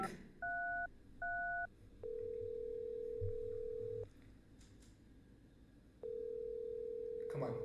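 A phone call placed inside the video game OMEGA: The Beginning rings out as two short double-tone beeps followed by long, steady ringback tones, clear and close over a low background hum.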